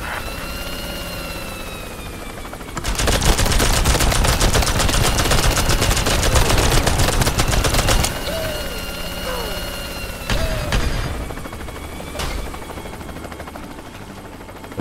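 A military helicopter chatters in Worms W.M.D. while a long burst of rapid machine-gun fire from it rattles loudly for several seconds, followed by shorter bursts and a few impacts over the cartoonish game soundscape.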